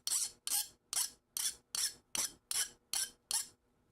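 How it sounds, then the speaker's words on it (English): A big metal hand file rasping a tube, nine harsh, bright strokes in a steady rhythm about half a second apart, close and alone. "Let me get my big file in here and we'll linish it back a little bit"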